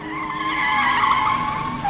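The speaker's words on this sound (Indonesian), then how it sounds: "Entah mengapa mobilnya berhenti secara tiba-tiba." A car brakes suddenly on a deserted road at night, its tires skidding and squealing in one loud, sustained screech that holds steady for about two seconds.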